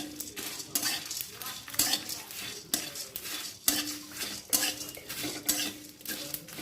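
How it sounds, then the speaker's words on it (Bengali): Black pepper, dried red chilies, cumin and bay leaves dry-roasting in a pan are stirred with a metal spatula, giving repeated scraping clinks and rattles in an uneven rhythm over a faint sizzle, close and moderately quiet. "আমি এবার গোলমরিচ, শুকনো লঙ্কা, জিরে, তেজপাতা সব দিলাম শুকনো খোলায় ভাজার জন্য।"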